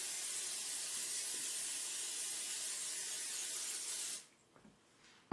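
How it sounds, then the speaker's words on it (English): A steady aerosol hiss of cooking spray onto a muffin tin runs for about four seconds, then cuts off, leaving a quiet room with a couple of faint knocks. "what I'm going to do next is spray the muffin tin"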